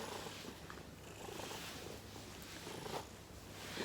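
A cat purrs softly and steadily up close indoors, a low rhythmic rumble pulsing through each breath cycle, faint and continuous with no voices.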